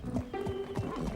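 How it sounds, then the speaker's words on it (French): Hooves clip-clop rhythmically on ground while a pony gives a short whinny, close and steady over about a second. "Ce n'est qu'un poney."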